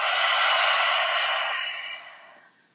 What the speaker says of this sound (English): So we'll breathe in, breathe out